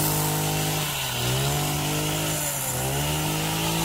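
A loud power tool, likely a chainsaw-type trimmer, runs steadily while shaping a garden tree in a countryside home garden, its engine pitch dipping briefly twice and rising again.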